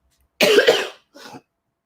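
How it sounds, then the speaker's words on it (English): One loud, close acid reflux cough brought on by coffee, followed by a shorter, softer second cough, with silence around them. "This is an acid reflux cough from this coffee."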